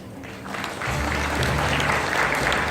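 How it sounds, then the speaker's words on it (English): Audience at a disaster resilience forum breaks into applause for panelists and a moderator, starting softer and swelling into dense, steady clapping that fills the room for the rest of the moment. "Let us give them another round of applause"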